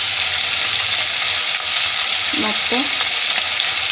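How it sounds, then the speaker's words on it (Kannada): Washed mutton fries in hot oil in a pan with a loud, steady sizzle that fills the whole stretch, and a brief word of speech cuts in partway through. "ಈಗ ನಾವು ಇದಕ್ಕೆ ತೊಳೆದಿಟ್ಕೊಂಡಿರೋ ಮಟನ್ ಹಾಕ್ಕೊಬಿಡೋಣ"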